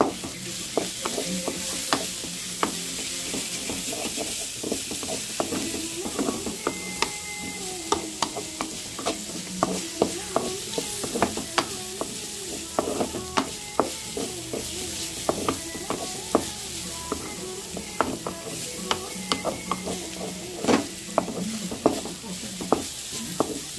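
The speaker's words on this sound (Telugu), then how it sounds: "క్యారెట్ కూడా బాగా ఫ్రై అవుతూ ఉంది" Carrots frying with turmeric in a pan, a continuous close sizzle broken by frequent clicking, scraping stirs of a utensil against the pan throughout, with no voices.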